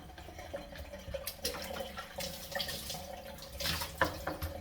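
Water running and splashing during a bath, a soft continuous trickle with irregular splashes and drips, fairly faint and close.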